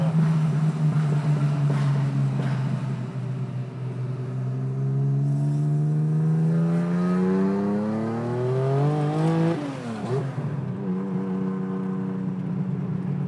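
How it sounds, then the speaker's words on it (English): A 1985 Porsche 930 Turbo Slantnose with an early SSI header exhaust rumbles loudly nearby, its raspy engine note climbing and falling through several rev sweeps with no voices. "It's got a early SSI header setup, so it's like very raspy, like a 3-liter Carrera would be raspy than with a turbo spool."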